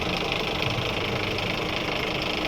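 Engine of a converted coach used as a family camper idling with a steady, rough, vibrating rumble that holds evenly throughout, close and fairly loud.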